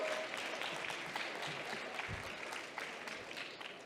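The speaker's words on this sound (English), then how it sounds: "another round of applause for our performers" Audience at the CHEST Challenge Championship 2022 applauding the performers, a steady wash of many hands clapping at moderate distance that tapers slightly toward the end.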